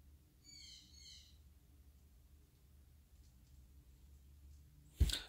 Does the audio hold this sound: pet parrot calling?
yes